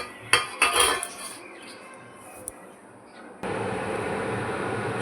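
Fish coated with cornflour, salt, turmeric, pepper and chili powder is mixed in a bowl, heard as a few close clinks and scrapes of utensils against the dish, followed by a steady background hiss.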